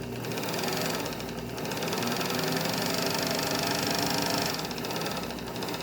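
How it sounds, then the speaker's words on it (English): A sewing machine running a straight stitch along the curved edge of a two-layer cotton mask, a continuous rapid mechanical whir and clatter, close and steady for the whole stretch. "you're just going to sew a straight stitch along this front curved edge of the mask"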